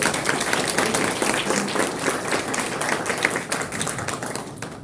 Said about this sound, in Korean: 다시 한번 박수 한번 보내주시겠습니다